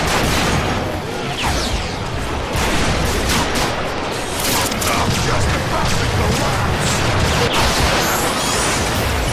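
Turret fire in a video game battle, a continuous loud barrage of rapid shots and crashing impacts filling the whole span without a break, with a voice faintly mixed in underneath.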